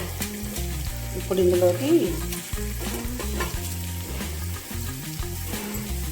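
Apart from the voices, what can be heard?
frying in a pan for drumstick tamarind curry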